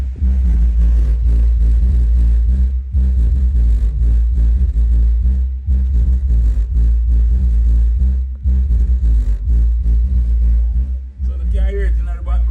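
A Power Acoustik Vertigo 8000W car amplifier, freshly repaired, drives loud music with a heavy pounding bass line and steady beat for most of the stretch, briefly dropping out near the end.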